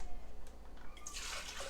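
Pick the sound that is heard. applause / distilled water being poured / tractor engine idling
distilled water being poured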